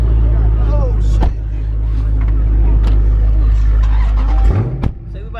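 Cars lining up to race on a street, a loud close engine rumble holding steady with brief revs and a passing swell toward the end, voices talking faintly over it.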